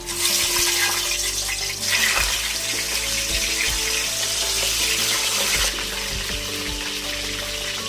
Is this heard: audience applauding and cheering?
no